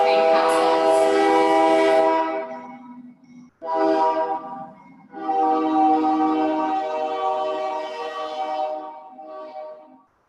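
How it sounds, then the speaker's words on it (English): Train horn blasts loud and close as a train passes: a long harmonic blare, a brief pause, a shorter blast, then another sustained blast fading out at the end. "Let's take some breaths while the train passes."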